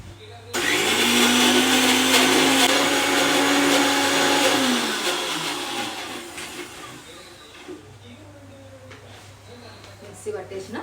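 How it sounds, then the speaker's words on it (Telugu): A mixer grinder whirs loudly as it blends a green chilli and curry leaf paste with onion, roaring steadily for several seconds before winding down, leaving a quieter fading hum near the end. "అన్నీ కలిపి మెత్తగా మిక్సీ పట్టుకోవాలి."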